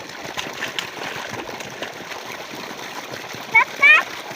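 A child plays in water, sending up a gentle ongoing splash and trickle with a couple of louder splashes near the end, close by, while voices talk over it.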